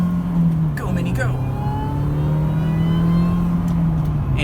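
A 2003 Mini Cooper S engine pulls hard while driving, a loud, close droning note that climbs steadily in pitch as it accelerates, with a brief shift-like dip early on and a voice calling out over it.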